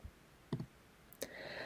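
Keyboard keys click in a few short, sparse taps as an email address is typed, faint and close, with a quiet room behind and no voices.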